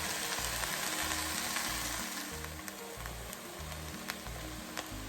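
Ham and potato chowder with heavy cream cooks in a pot, giving a steady close sizzle and bubbling simmer that runs alone throughout.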